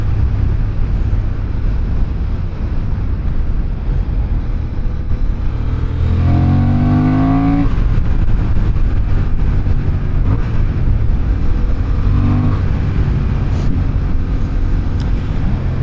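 A Honda CB750 Hornet motorcycle accelerates hard, its engine revving up in a rising sweep through the gears, loud and close under heavy wind rush.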